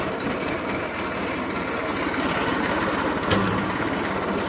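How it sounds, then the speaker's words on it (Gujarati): A farm tractor pulls out of its shed before a groundnut harvest, its engine giving a steady, close, loud rumble throughout, with a short metallic clank near the end. "આપણે હવે ટ્રેક્ટર બહાર કાઢી દીધું મિત્રો"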